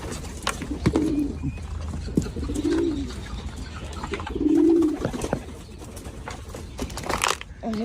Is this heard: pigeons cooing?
yes